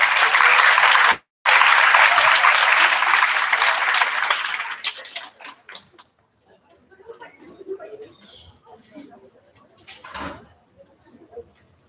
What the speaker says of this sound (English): So let's give them a warm round of applause.